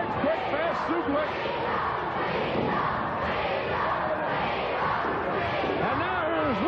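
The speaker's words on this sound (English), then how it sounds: "the crowd chanting weasel at Paul Jones, his manager" A pro wrestling crowd at a 1986 match chants "weasel" at manager Paul Jones, a steady roaring arena din with rising voiced calls throughout, while an announcer talks over it.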